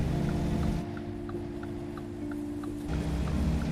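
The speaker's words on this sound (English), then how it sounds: "But you can hear a lot more of the engine, obviously." A truck engine in the driving game American Truck Simulator gives a steady, low droning hum with a faint, regular ticking over it, louder at the start and end and dipping slightly in the middle.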